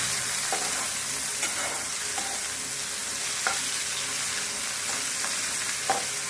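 Finely cut onion and tomato frying in oil for a Nellore prawn and raw mango thokku, a dense even sizzle up close with a few soft spatula taps scattered throughout.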